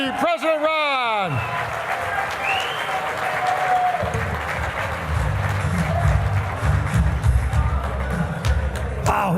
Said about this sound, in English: Let's get a big round of applause for Mr. Ron Kubicki.